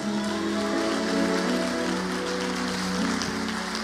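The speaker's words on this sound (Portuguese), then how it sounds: "Aplaude bem forte a Jesus." Loud, steady applause from a church congregation praising Jesus, a dense even wash of clapping lasting throughout, with faint sustained tones from music underneath.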